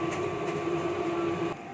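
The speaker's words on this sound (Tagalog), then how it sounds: "ito po ang sublimation machine namin dito sa Shirt Planet Audio" A sublimation printing machine in a shirt-printing shop runs with a steady, close mechanical hum and whir, then cuts off abruptly near the end.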